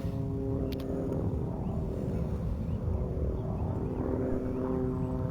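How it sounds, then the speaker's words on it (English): A small Kiowa-style helicopter, similar to a Hughes 500, flies in Arma 3. The rotor and engine drone is steady and fairly loud, with no speech over it. "little Kiowa helicopter, or AH anyway, like a Hughes 500"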